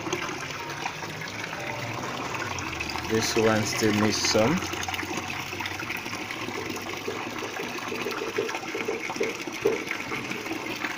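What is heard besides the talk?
water draining from a catfish tank through outlet controller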